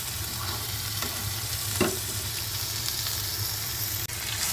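Cabbage being stirred and fried with fish head and potatoes in a pan, a steady close sizzle with a few scraping stir strokes and no talking.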